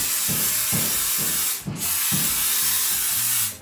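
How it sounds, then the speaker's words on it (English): Baker's Joy flour baking spray hisses onto a loaf pan for banana walnut bread in a few close, steady bursts, with a short break near the middle. "you must use a flour spray."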